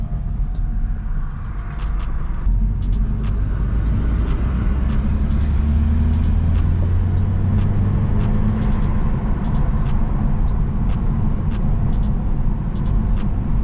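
A lowered BMW rolls along slowly through a turn with a loud, steady low engine rumble and road noise throughout, plus faint clicks and rattles on top, with no speech.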